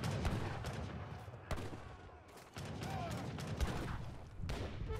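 Heavy cannons in a strategy video game pound castle walls during a siege, firing sharp booming shots at irregular intervals over a dense, rumbling battle din.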